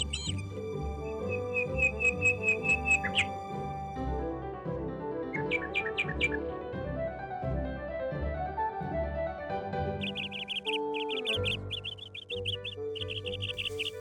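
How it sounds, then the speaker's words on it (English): Bayou birds such as egrets, herons and cranes chirp in short, high, repeated tweets and trills, popping in and out over a steady, fairly loud musical background. "She noticed a variety of birds, egrets, herons,"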